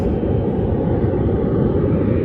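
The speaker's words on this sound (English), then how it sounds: "This is the KLM Boeing 777-200." KLM Boeing 777-200 airliner at Las Vegas airport, a heavy continuous low engine roar, steady and fairly close, with no voices over it.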